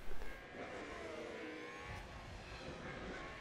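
Race cars in the F1 Manager 22 video game roar steadily as one car overtakes another, a continuous engine drone with a brief rising pass, no talking.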